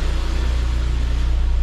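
A Saab 9-5 Aero with 200,000 miles and a straight-piped exhaust idles in a cold setting, a loud, close, steady low rumble with an even pulsing beat.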